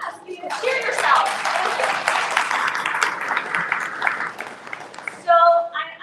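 A golden-reunion alumni crowd at Miami University in Oxford, Ohio claps and cheers in a dense, lively burst that swells and then fades, with a voice speaking briefly near the end.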